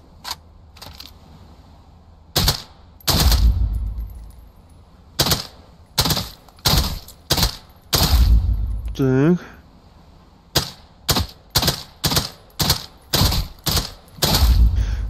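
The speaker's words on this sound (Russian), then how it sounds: "как прикольно здесь ощущается стрельба" Gunfire from the VR shooter game Contractors Showdown: loud, sharp shots in quick single and short automatic bursts, repeating through the clip with a brief voice speaking between them.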